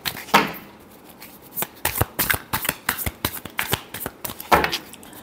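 Tarot cards shuffled by hand in a run of crisp riffling flicks and slaps, close and fairly loud, with a louder burst at the start and another near the end.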